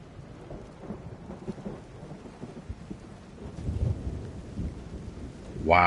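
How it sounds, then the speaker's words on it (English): Deep rolling thunder rumbles with steady rain in the video game Everybody's Gone to the Rapture, swelling louder midway, and a sharp bright phone ringing tone cuts in at the very end. "that is some great thunder"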